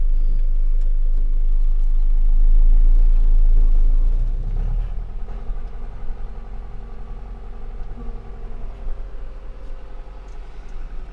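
A John Deere 6320 tractor engine runs after repair, a deep steady rumble close by that swells briefly and then settles into an even, slightly rough drone.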